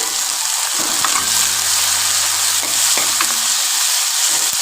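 Red tomatoes hit a hot onion tadka for Punjabi saag, setting off a steady close sizzle and frying hiss with a spoon stirring and scraping through the pan.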